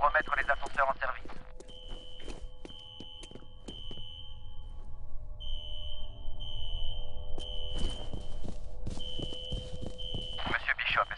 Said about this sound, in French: Une alarme anti-incendie?